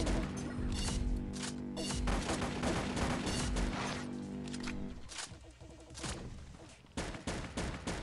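Rapid bursts of gunfire from the Pixel Gun 3D shooter game, dense overlapping shots in a loud continuous barrage with crashing impacts, easing slightly toward the end.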